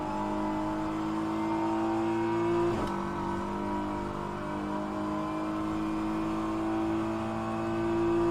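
LMP2 prototype race cars in the rFactor 2 racing game during an online six-hour endurance race at Interlagos, Brazil, with a steady high-pitched engine drone. One car passes near midway, and the engines run continuously with no talk.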